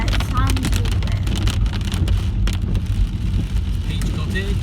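Rain patters and drums steadily on a moving car during a drive, under engine rumble and wind buffeting, with scattered sharper drops striking the body.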